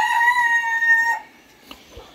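A Brahma rooster crows loudly and close in a rooster-only pen, one long harmonic call that breaks off, followed by faint clucks and small scuffling sounds.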